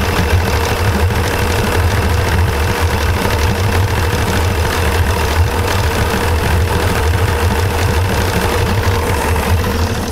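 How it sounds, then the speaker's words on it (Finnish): A Suzuki DT55 outboard motor idles cold and fails to warm up, a loud, continuous low chugging that stays steady and close throughout, with no talking. "tää kone ei lämpiä tyhjäkäynnillä kunnolla"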